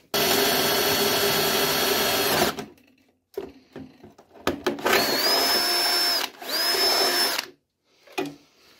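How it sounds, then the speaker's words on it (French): A power drill bores holes in a homemade steel exhaust pipe. It whines steadily for a few seconds, then comes a series of shorter starts and stops with rising motor pitch, a few quiet gaps and light clatter, all up close. "Alors on va essayer déjà de percer les trous."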